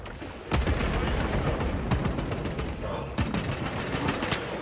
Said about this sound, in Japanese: フラッググレネード